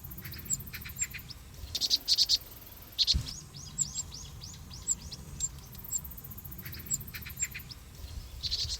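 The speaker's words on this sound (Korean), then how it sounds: "바로 새끼 뻐꾸기입니다." Young cuckoo calling from a red-headed parrotbill nest it has outgrown, repeated thin high chirps and short call bursts standing out over a steady insect-like background hiss, fairly close.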